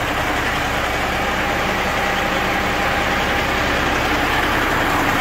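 A car engine idles with a dense, steady rumble, loud and close with no talk over it.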